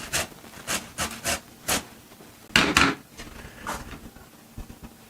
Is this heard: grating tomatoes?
yes